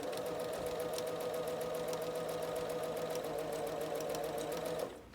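Sewing machine stitching a scant quarter-inch seam while piecing a quilt block, a steady rapid mechanical whirring with even clicking that runs close and continuous for about five seconds, then stops abruptly.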